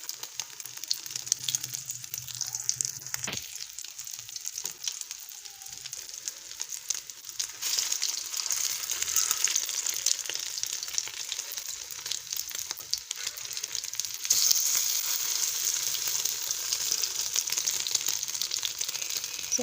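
Aloo tikki potato patties fry in a pan with a continuous hiss and crackle of hot oil, a few brief clicks and scrapes near the start, and no voices.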